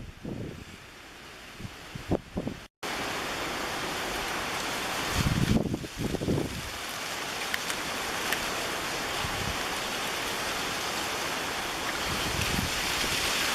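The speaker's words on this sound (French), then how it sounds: "Il y a du vent, hein, il y a au moins 25 nœuds là." Strong wind of at least 25 knots gusting at an airfield, a steady broadband roar with heavier surges around the middle and a brief dropout early on.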